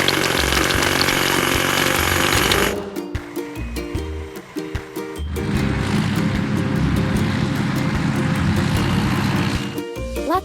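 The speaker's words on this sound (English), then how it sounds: "Hydraulic hammer." Hydraulic hammer on a construction machine breaking big rocks, a loud, dense rapid pounding that runs on and off with a backing tune playing over it.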